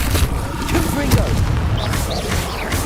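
The Confringo fire blast spell in Hogwarts Legacy lands as a deep boom with rumbling crackle, mixed with other game effects and a voice talking over it.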